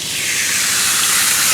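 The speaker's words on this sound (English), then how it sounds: "We got a sizzle." Peppers and onions sizzle in oil on a hot grill pan, a steady, loud hiss that holds even and unbroken throughout.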